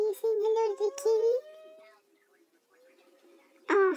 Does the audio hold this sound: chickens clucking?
no